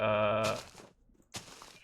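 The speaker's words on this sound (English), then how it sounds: "Got some sheep here." Blocky video game sheep bleat once, a clear harmonic cry in a dark oak build lit with jack-o'-lanterns, followed after a short pause by a fainter second noisy call.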